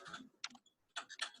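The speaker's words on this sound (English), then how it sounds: "After typing 100, I do type the enter key." Keys clack on a computer keyboard during a typing demonstration, a quick burst of keystrokes followed by a brief pause and then another cluster ending with the enter key being pressed, close and crisp with no talking.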